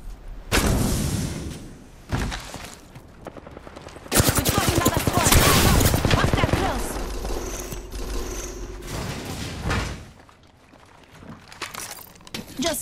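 Bursts of rapid automatic gunfire in the Apex Legends video game, heavy and sustained in the middle with shorter volleys before and after, mixed with mechanical clanks.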